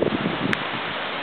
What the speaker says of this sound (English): Some very strong winds in the lower mainland.